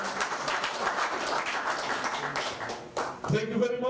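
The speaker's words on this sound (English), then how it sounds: "we thank them once again with a big round of applause" Dense, steady applause from a crowd at a youth council awards event in Labasa, Fiji, fills the clip, continuous clapping with no breaks, briefly shifting near the end as another sound cuts in.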